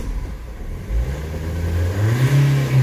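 A Nissan/Vauxhall/Opel engine with a dirty EGR valve and throttle hesitation rumbles near idle, then revs up in a rising whine, close and steady, with no voices.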